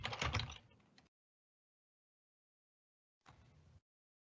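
Short bursts of typing on a computer keyboard, a quick cluster of key clicks followed by a pause and then a second brief run of keystrokes, close and clear with no voices.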